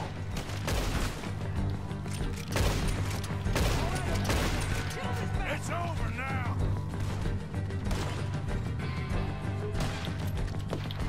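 Rapid gunfire and bursts of shots in the Red Dead Redemption 2 video game, dense and loud throughout amid game music and crashing impacts, with people talking over it.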